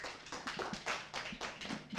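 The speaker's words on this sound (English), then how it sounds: "A round of applause," An audience applauds at a farmers' soybean training session, a steady, fairly faint wash of many hands clapping throughout with no voices.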